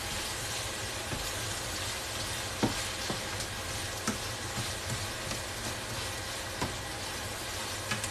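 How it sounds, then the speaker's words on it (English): Pot of potatoes boiling on a home stovetop, a steady low bubbling and hiss throughout with occasional small pops and clicks, fairly quiet and with no voices. "Potatoes are finally boiling."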